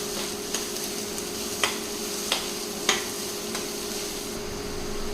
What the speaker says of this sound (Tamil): ஒரு 2 மீடியம் சைஸ் பெரிய வெங்காயம் கட் பண்ணி வச்சுருக்கேங்க, சேர்த்திக்கலாம். சேர்த்திட்டு கலந்து விட்டுறலாம்.